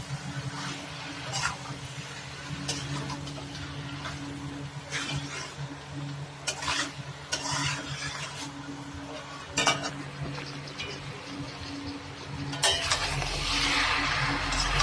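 Goat head with ginger and garlic is mixed in a pot, with repeated scraping and clinking strokes of a utensil against metal over a low hum, the noise swelling louder toward the end.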